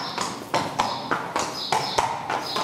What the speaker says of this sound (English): So, this is my horse, Romanesque, who keeps blocking his pedigree